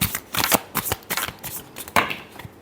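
A deck of tarot cards is shuffled by hand close up, a quick run of dry riffling bursts and soft slaps that come in uneven spurts and then trail off.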